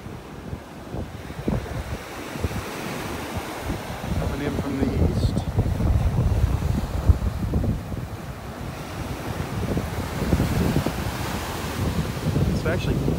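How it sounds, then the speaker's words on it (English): Wind and rolling surf on a breezy beach in North Naples, Florida, a loud, steady wash of waves with gusts buffeting the microphone throughout. "Pretty breezy out here."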